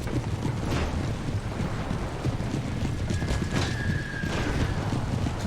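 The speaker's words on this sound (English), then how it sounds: "Oh, it's a horse." A horse whinnies while its hooves clip-clop steadily, with reinforcements arriving over a dense, rumbling battle din; the neigh rises clearly partway through.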